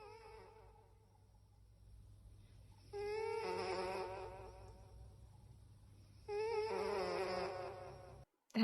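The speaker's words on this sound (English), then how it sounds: "Is the cat purring into an echo mic?" A cat purrs close into an echo microphone: a steady low rumble with two louder, warbling, reverberant bursts, the second fading out near the end.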